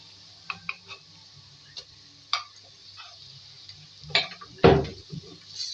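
Ginger-garlic paste is worked into softened frying onions in a pan, giving sparse clinks and scrapes of a spoon against metal. The hits come intermittently, with one louder scrape near the end, and the scene is otherwise quiet.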